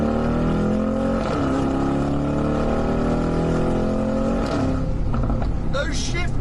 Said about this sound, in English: get ready to put the foot down, accelerate away